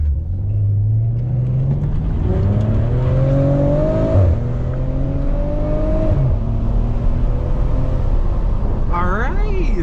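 A Maserati Ghibli S, its engine likened to a Ferrari unit minus two cylinders, accelerates hard through paddle-shifted gears, rising engine tone climbing then stepping down at each shift, close and loud with voices talking in the cabin.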